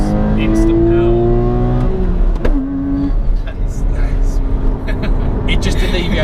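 A Porsche Cayman engine revs up hard after a downshift from sixth to second gear, its tone climbing steeply to a loud, close peak before settling into a sustained high drone, with someone talking over it.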